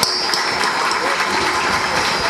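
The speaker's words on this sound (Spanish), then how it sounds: "Un aplauso, por favor." Audience applause at a groundbreaking ceremony for a cruise pier in Trujillo, a dense steady wash of clapping filling the whole stretch at even loudness.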